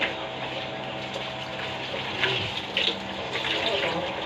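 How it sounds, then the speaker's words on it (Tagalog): Tap water runs steadily into a sink during washing, a close, continuous splash and hiss with a few soft clinks over it. "naghuhugas ako"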